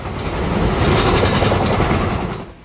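A mail freight train rolls past on a railroad line near Miamisburg, Ohio, a loud, steady roar of wheels and cars with faint clickety-clack, swelling and holding close before easing off at the end.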